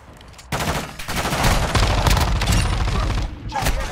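Rapid bursts of automatic gunfire ring out in the video game Call of Duty: Modern Warfare II, dense and loud, nearly continuous crackling shots after a quiet opening half second.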